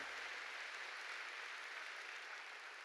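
Congregation clapping during a Korean church sermon, a steady, continuous wash of many hands heard from a distance at low level for about three seconds.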